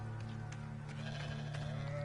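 A goat bleat in the video game Hogwarts Legacy over a steady electronic hum and game sounds, faint and brief, with no talking.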